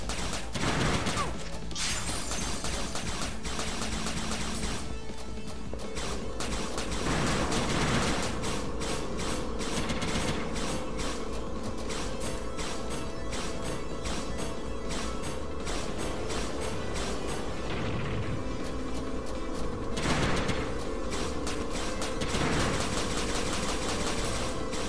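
Continuous rapid weapon fire and mechanical game effects from the video game Mighty No. 9 pound along under electronic music, dense and loud throughout.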